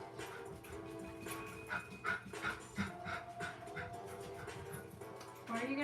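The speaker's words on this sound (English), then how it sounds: "Oh, it's the neighbor dog." A neighbour's dog heard from nearby: panting and occasional soft barks and whimpers at moderate to faint level, running under background music throughout.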